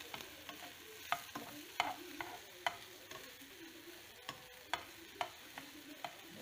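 Small lardons sautéing in a pan in a home kitchen, a soft steady sizzle broken by sharp clinks and scrapes of a utensil stirring at irregular intervals, fairly quiet and close, with no talking.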